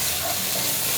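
Tomato just added to softened onions frying in a pan for Kerala duck roast: a dense, even sizzling hiss, brief and close.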